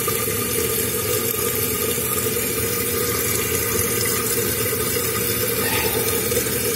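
Steady rushing and gurgling of water refilling a toilet tank, continuous and close, with a low hum underneath and no talking.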